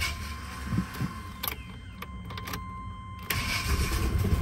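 A Chevy Silverado truck left sitting for two years with a sticking starter is cranked, its starter grinding briefly before the engine catches and settles into a rough idle, close and steady.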